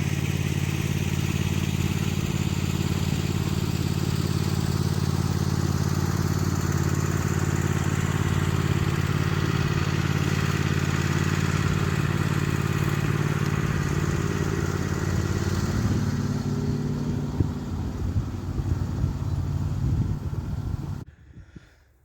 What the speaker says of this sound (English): that's the little red tractor put away